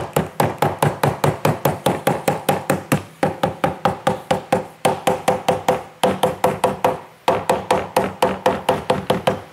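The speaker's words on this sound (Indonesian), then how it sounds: "saya gunakan palu supaya lebih mantap dan yakin untuk nempel ya" A hammer taps PVC edging onto a wooden bed frame in quick, even runs of sharp knocks, about twenty blows in each burst and four bursts with short pauses between them, loud and close.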